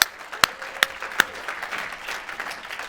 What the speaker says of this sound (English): I think that deserves a little bit of applause